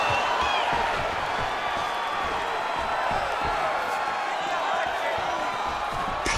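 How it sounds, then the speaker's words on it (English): Arena crowd in EA Sports UFC 5 roaring and cheering throughout a fight, a continuous loud wall of cheers and whoops with a commentator talking over it. "crowd loving it"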